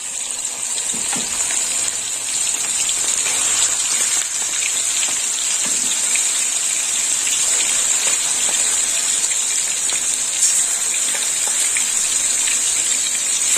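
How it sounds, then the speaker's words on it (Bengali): Prawns frying in hot oil, a continuous dense hiss and sizzle like heavy rain, steady and fairly loud for the whole stretch with no talking over it. "এবার চিংড়ি মাছগুলো ভেজে নেব। দিয়ে দিলাম চিংড়ি মাছ।"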